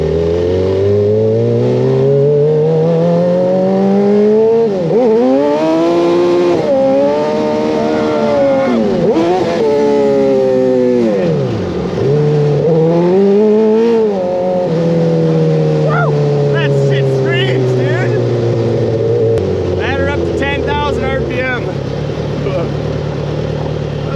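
A buggy engine revs loudly at full throttle, pitch climbing and dropping repeatedly as it accelerates and shifts, close and continuous with no pauses.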